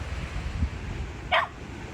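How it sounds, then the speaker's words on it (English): A single short, sharp bark from a dog rings out near the seaside over steady wind and surf noise. "Ah, Shine, you're always barking."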